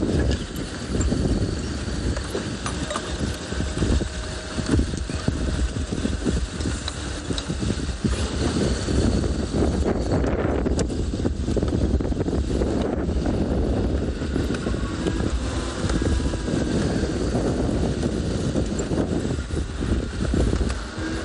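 Strong wind buffets the microphone continuously, a loud roaring rush with gusty fluctuations throughout, on a morning safari in South Africa.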